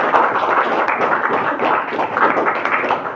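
A classroom audience gives student presenters a steady burst of applause, many hands clapping together close by without pause.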